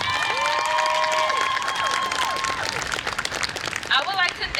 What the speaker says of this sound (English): can we please get a round of applause for our Dorsey staff and parents who supported us the whole way?